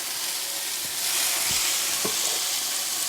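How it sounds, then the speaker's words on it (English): Thin slices of beef sear in a hot skillet, with a loud, continuous sizzle up close and a few soft thuds from the meat being laid in, and no talking. "And we are ready to sear."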